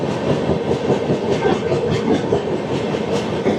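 Passenger train rolling on rails during a Garib Rath Express journey from Agartala to Kolkata, a loud steady rumble with rhythmic wheel clatter throughout.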